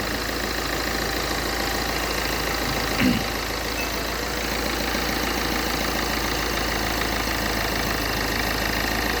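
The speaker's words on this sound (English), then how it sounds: "ಗಾಡಿ starting sound ನೋಡಬೇಕು, ನೀವು ಅಬ್ಸರ್ವ್ ಮಾಡ್ಕೊಳ್ಳಿ." A Ford Figo engine idles steadily after decarbonizing, a constant even hum with no change in pace, with one brief faint knock partway through.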